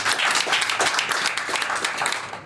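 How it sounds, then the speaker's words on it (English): An audience at a talk gives a warm round of applause, continuous overlapping clapping at moderate loudness, fading slightly at the end. "I think that deserves a big round of applause."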